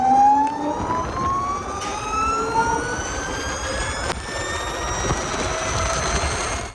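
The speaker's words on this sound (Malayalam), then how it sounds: "ഏതാണ്ട് ഈ ആക്സലറേഷൻ സൗണ്ട് അതൊരു രക്ഷയില്ല." An Ather 450X electric scooter accelerates, its motor whine climbing steadily in pitch with a rising electric hum over steady rolling and road noise, loud and close throughout with no talking.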